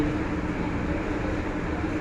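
Inside the moving Turag passenger train near Joydebpur station, a steady dense low rumble of the carriage rolling on the rails, constant and close, with no voices.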